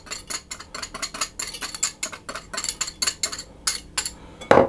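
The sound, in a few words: mixing flour and baking powder in a bowl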